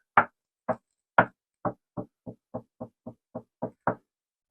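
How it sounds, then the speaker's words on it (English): Sharp knocks tapped by hand on audio isolators set beneath a phono stage, about a dozen crisp, evenly spaced raps close up, alone with no voices. "we'll do some tapping around like I've done before"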